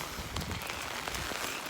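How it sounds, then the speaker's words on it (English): Steady rain falling outdoors on a path at night, a continuous close hiss of drops spattering the ground with no voices. "I love the rain."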